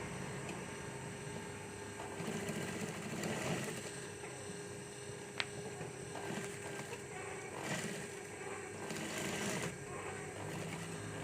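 Sewing machine stitching fabric house slippers with heel protection: a quiet, fairly distant, rattling whir runs through in uneven bursts, with faint background noise and no clear talk.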